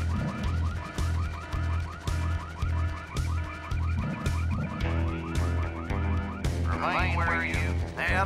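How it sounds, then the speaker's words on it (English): A looping electronic alarm wails in the video game Full Throttle Remastered, its repeating siren pattern sounding steadily for several seconds at moderate level with a shift in tone near the end. "But who set off the alarm, Floyd?"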